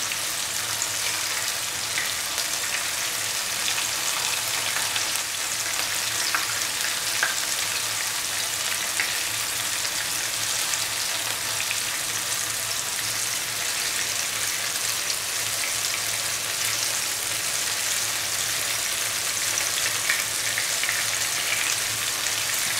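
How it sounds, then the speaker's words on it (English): Mutton meatballs, or kofta, frying in hot oil, crackling and sizzling steadily up close, with a dense, even hiss that holds unbroken throughout and has no talk. "these have to be fried for 6 to 7 minutes and taken off"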